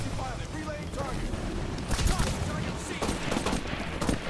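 Distant-sounding automatic gunfire and explosive thuds in the video game Titanfall, moderately loud bursts layered under Turkish-speaking players talking and chirpy game effects.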